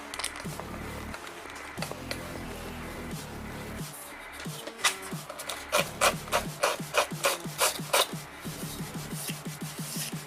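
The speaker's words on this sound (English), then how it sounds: "the hot glue will sand" Hot glue on a model starship is sanded by hand, a close gritty rubbing that starts irregular and settles into quick rhythmic back-and-forth strokes, with faint voice in the background.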